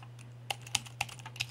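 Light typing on a computer keyboard during a Mac OS X login setup: a handful of sparse, soft key clicks over a quiet steady hum.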